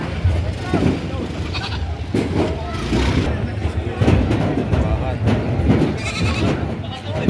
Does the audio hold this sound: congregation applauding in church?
no